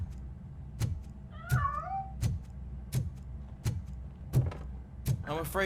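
A cat meowing in the RoboCop Rogue City video game, a couple of short mewing calls amid a steady series of sharp rhythmic clicks or thuds, with a louder meow at the very end.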